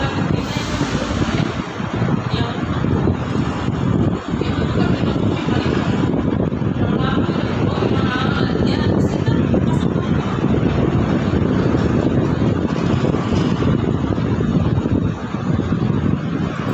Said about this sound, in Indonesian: Anginnya sepoi-sepoi guys.